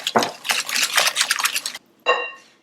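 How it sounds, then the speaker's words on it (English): Brown and white sugar stirred with flavorless oil in a bowl for an apple ginger walnut cake, a run of quick scraping, clinking utensil strokes against the bowl, a brief pause, then one more stroke. "I'm going to add in my brown and white sugar. And we're also going to add in the flavorless oil. And just mix that together."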